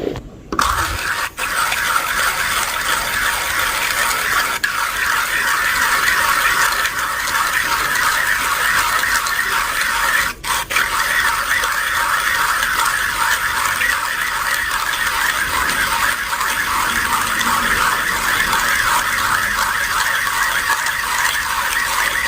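Coffee grinder grinding arabica coffee beans, a loud continuous mechanical whir with a gritty rattling texture that runs nearly unbroken for over twenty seconds.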